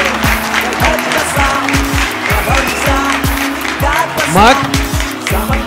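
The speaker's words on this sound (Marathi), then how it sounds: "अरे टाळ्या वाजवा." An audience claps in rhythm at the results finale of a Marathi singing competition on stage. The steady, close applause carries over voices and background music.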